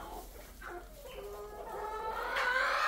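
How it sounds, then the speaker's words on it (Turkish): Young hens cluck and squawk in a backyard coop lined with straw, several close birds calling in overlapping bursts that grow busier and louder toward the end, with no talking. "Bunlar da gıdaklamaya başladı artık."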